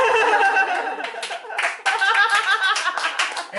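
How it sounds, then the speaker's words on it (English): A comedy audience bursts into scattered clapping mixed with laughter and chuckles, coming in uneven waves of claps at close range. "And we get some applause for it."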